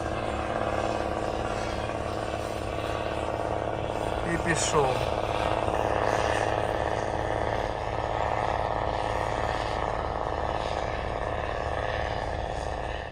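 A Slobozhanets tractor pulling an Optikon four-furrow reversible mounted plough in a field, its engine droning steadily and loud throughout, with a person speaking briefly over it.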